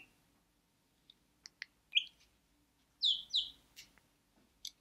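Scattered short chirps from a pet bird, faint and sparse, with a few sharp high tweets clustered together near the end against a quiet room.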